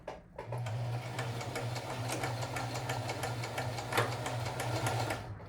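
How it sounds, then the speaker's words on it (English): A sewing machine stitches a seam on a dress, giving a continuous, even motor hum with a rapid, regular needle ticking. It sounds close and steady, with a brief start and stop at either end. "And I'll just get sewing."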